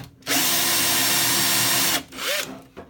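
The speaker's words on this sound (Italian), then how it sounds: "Con questo tipo di punta svaseremmo" Power drill fitted with a Lidl Parkside countersink bit whirs loudly for about two seconds at steady speed, then stops, followed by a brief lower spin-down and a short rustle.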